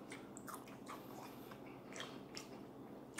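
Biting and chewing crispy pepperoni on a Little Caesars stuffed crust pizza, with soft close crunches and moist squishing repeating quietly and irregularly, no talk.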